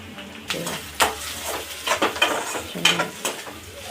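Akki rotti ingredients being fried and stirred in a pan, a close, soft sizzle broken by repeated scrapes and clinks of a utensil against the metal, with no one talking.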